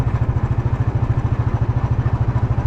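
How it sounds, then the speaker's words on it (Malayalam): A motorcycle engine runs close by with a steady, rapid pulsing thump and low rumble throughout, heard alone without talk. "ഞാൻ ഇതിലിങ്ങനെ ബൈക്ക് ഓടിച്ച് പോകുന്ന ഒരു വൈബ് ഉണ്ടല്ലോ"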